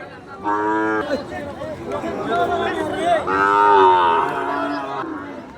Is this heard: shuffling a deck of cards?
no